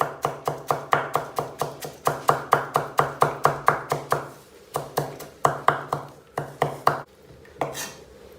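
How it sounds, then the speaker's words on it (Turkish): A knife chops a handful of parsley very finely on a board, steady rapid strikes close by, a few short pauses and a looser final burst. "Bir tutam maydanozumuz var. Onu çok ince bir şekilde doğruyoruz."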